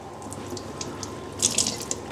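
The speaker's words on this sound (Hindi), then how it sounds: "कपड़े को मैं गीला करूँगा" Cloth being wet under running tap water while cooking yakhni pulao: a steady faucet stream with splashing and a few brighter drips and gurgles toward the end.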